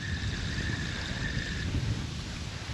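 Steady wind gusting and buffeting the microphone, a continuous rough rumble with a faint high whine fading partway through.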